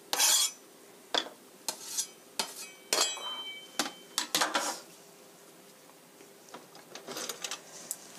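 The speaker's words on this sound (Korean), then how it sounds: "양파와 베이컨을 같이 볶아주세요." Onion and bacon stir-fried together in a pan for mashed potato salad, heard as scattered clinks and scrapes of a utensil against the pan, irregular and fairly close, with a soft sizzle underneath.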